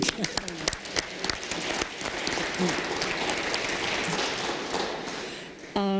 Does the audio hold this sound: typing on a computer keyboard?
no